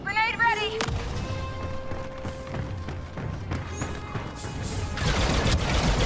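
Grenade blasts and gunfire in Star Wars Battlefront II during a Galactic Assault style battle, a sharp crack followed by scattered thuds and a rising burst of explosive noise near the end, with no talk over it.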